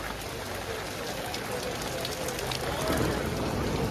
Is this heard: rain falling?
yes